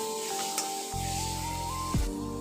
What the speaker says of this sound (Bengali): মশলাটা এখন কষিয়ে এসেছে, এই অবস্থায় কন্টিনিউ নেড়ে যেতে হবে